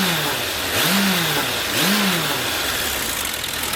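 A 2000 Suzuki Bandit 1200 motorcycle engine runs with a slightly noisy motor, a close, steady rumble with two brief rising-and-falling revs.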